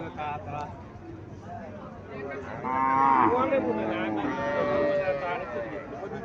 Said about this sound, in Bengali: এখানে আরো একটা গাভি দেখাচ্ছে সাইকেল জুতের গাভি